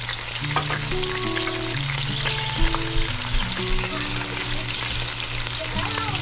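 Pork chops frying in oil in a frying pan, giving a steady loud sizzle and crackle with occasional pops and faint utensil movement throughout.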